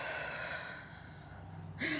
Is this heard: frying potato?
no